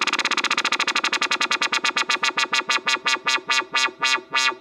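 A Massive software synth patch pulses rhythmically as an envelope modulates its LFO rate, so the repeated throbs start rapid and steadily slow down over several seconds, with no talking over it.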